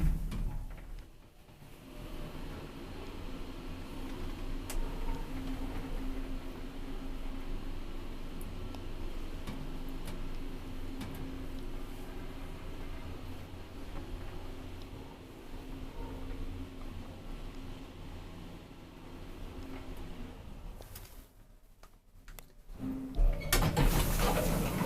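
An old I.G.V. traction elevator in a Helsinki apartment building hums and whirs steadily at a moderate level, with faint mechanical ticks and a clunk near the end as the car stops.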